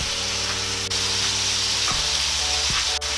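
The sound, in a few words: tomatoes sizzling and being stirred in pot for sinigang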